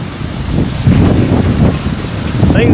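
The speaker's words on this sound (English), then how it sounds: "It's getting so windy now though." Strong gusting wind on a mountain ridge buffets the microphone in a constant loud roar, swelling and easing slightly, with no other clear sounds.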